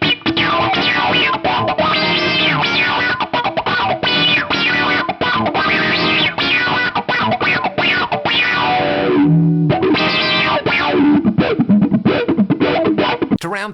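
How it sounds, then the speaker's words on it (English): An electric guitar plays through a swelling, quacky filter and gritty overdrive, loud and continuous with strummed chords and brief pauses. "still getting those really lush and silky envelope filter and drive tones out of it"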